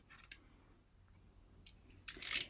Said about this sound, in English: I'm gonna cut the window right here